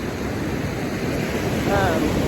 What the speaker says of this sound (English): just hear the water in the background